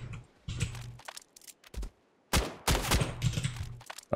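Pistol shots from the video game Standoff 2, fired in a few separated bursts of sharp cracks with short gaps between them, loud and close with no talk over them.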